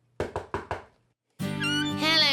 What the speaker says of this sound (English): he heard a knock at the door.